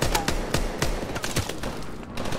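Gunfire in the Call of Duty: Advanced Warfare campaign: rapid, loud shots crack in an uneven burst of about a dozen, overlapping with echoing battle noise and no talk.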